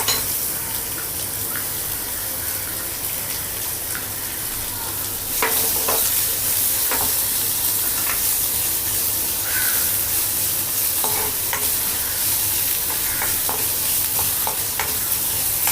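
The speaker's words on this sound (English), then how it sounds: "Saute this for a few seconds. Add the chopped onion." Chopped onion sautéing in a pan, a loud, constant close-up sizzle with scattered light clinks and scrapes of a spatula stirring throughout.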